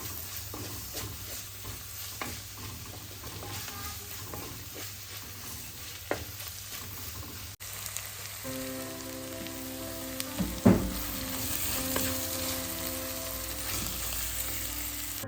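Ginger and garlic frying in a pan for a Kerala-style shrimp roast with coconut milk, a soft continuous sizzle with occasional spoon scrapes and stirring knocks, close and unvoiced.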